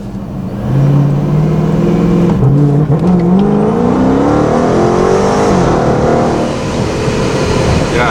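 A Procharged Dodge Scat Pack accelerates hard, its loud engine note climbing in pitch, dropping sharply at two quick gear shifts, then pulling up again, steady and close with no talk.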